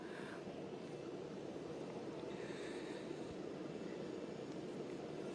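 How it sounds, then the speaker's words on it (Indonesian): Indonesian Air Force Boeing 737-400 jet airliner heard as a steady, continuous engine roar at moderate distance, a broadband rumble holding level throughout without distinct changes. "kita lihat ini adalah rombongan dari pesawat Boeing 737-400, di mana pesawat milik TNI Angkatan Udara ini membawa"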